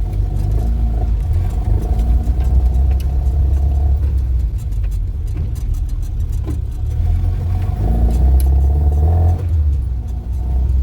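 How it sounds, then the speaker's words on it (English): A restored classic Mini drives along with a steady, buzzing engine drone from inside the cabin, rising as it accelerates through gears. "let's go for a little spin with the Mini"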